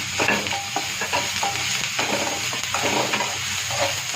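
Capsicum masala fries in a spoonful of oil, North Indian style, a steady close sizzle broken by repeated scraping and stirring strokes of a spoon against the pan, with no talking.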